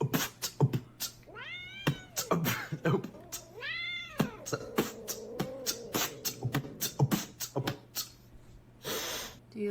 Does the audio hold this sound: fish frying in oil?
no